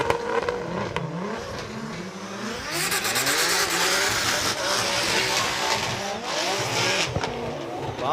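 Drift race cars at Formula Drift Japan roar through a tandem battle, their engines rising and falling under sustained load with tire noise, loud and continuous for several seconds.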